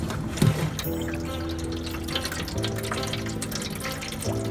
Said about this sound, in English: make sure you rinse with water 2 or 3 times